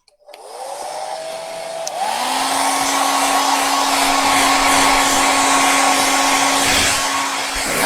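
A hair dryer switched on to dry a watercolor banner, its motor whining up to speed and then blowing as a loud, steady close-up roar with a constant hum, no voices.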